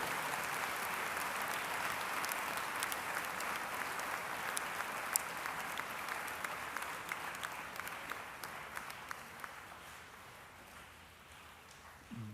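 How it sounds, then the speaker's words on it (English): Sustained applause from a large audience of students, faculty and administrators at a Sri Sathya Sai Educational Institutions prize distribution ceremony, steady dense clapping that tapers slightly toward the end, with no talk over it. "we have to give all the students, faculty members and administrators a huge round of applause"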